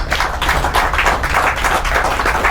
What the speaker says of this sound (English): So I think a round of applause for John Simpson, please.